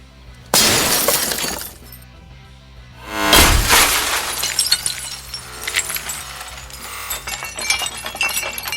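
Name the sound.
SOG Force knife pommel breaking car window glass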